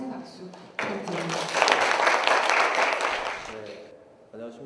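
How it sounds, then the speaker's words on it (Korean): Warm audience applause at a university talk concert, welling up after a voice, holding full and steady for a few seconds, then thinning out as a speaker resumes. "강문호 교수님 다시 한번 큰 박수 부탁드립니다"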